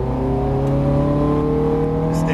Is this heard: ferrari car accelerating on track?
yes